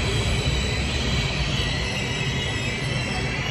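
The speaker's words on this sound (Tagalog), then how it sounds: "Parating na yung LRT." An LRT light rail train arrives at a Baclaran station, rumbling in close by with a broad steady roar and faint high metallic squeal, loud and continuous throughout.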